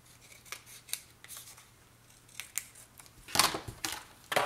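Scissors trim excess paper off the edge of a vintage scrapbook album page, giving a few soft snips early and a louder, closer burst of cuts near the end in a quiet room.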